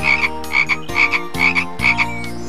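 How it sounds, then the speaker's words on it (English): Frogs croak in a loud, close chorus, four evenly spaced bursts of buzzy, rasping croaks over a constant low drone, with no talk. "So they croaked and they croaked in the sand"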